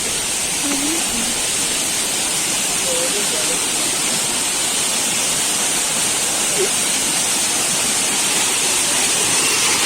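A white waterfall roars in a steady, dense rush that fills the whole clip, loud and continuous, with faint voices barely surfacing beneath the water.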